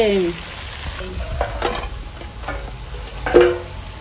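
Soybean chunks, papaya and potato fry in oil with spice masala while being stirred. A close, steady sizzle is broken by scraping stir strokes and a louder clatter near the end.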